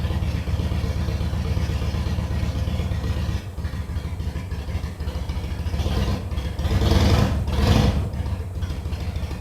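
A 2006 Harley-Davidson Sportster motorcycle engine idles close by with a steady low, lumpy rumble that swells slightly near the end, with no talking over it.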